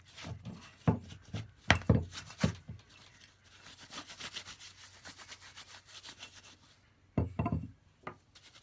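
A Record 311 shoulder plane, freshly cleaned and oiled, cuts a test piece of wood clamped to a bench, giving several sharp rasping strokes near the start, a softer scraping stretch in the middle and a final short burst of strokes.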